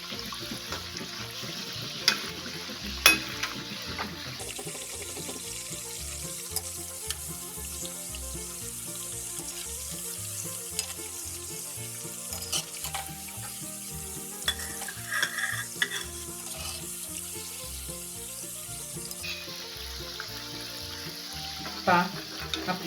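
Wheat flour kapnya deep fry in hot oil over a medium flame, a steady close bubbling sizzle that runs throughout, with scattered light clicks and utensil taps.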